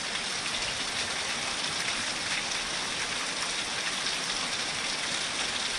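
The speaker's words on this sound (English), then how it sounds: "We are getting one healthy rain. It's filling up the rain gutter, the bird bath." Heavy rain pours steadily and close, a dense even hiss of drops splashing into a rain gutter and a bird bath with no pauses.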